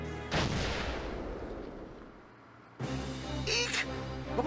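An explosion in the video game Valkyria Chronicles Remastered: a sudden loud blast that decays into a rumbling tail, then a second sharp burst with crackling debris, no talk over it.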